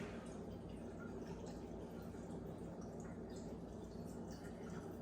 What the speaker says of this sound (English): So you pour your vodka in.